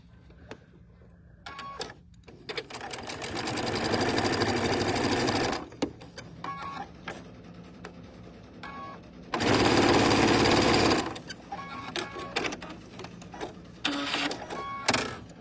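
Sewing machine stitching quilt block pieces together, heard in three loud, steady whirring runs of a few seconds each, separated by quiet pauses with faint handling noises.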